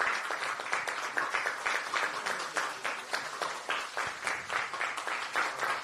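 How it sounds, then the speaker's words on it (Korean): Steady applause from a crowd at a Democratic Party of Korea appointment ceremony, many hands clapping continuously at a moderate level for several seconds. "큰 박수 부탁드립니다"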